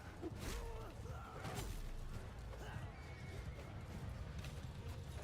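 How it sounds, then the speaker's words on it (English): Horses neigh and whinny amid a Mount & Blade II: Bannerlord battle, with shrill cries rising over a constant rumble of hooves and clashing noise from the fighting. "There's so many horses dying on the battlefield."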